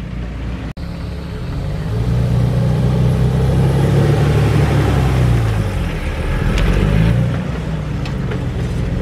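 A Jeep engine rumbles steadily at a night Jeep trial event at Vortex Springs, a low mid-range drone rising and falling as the vehicle drives past, moderately close and without voices.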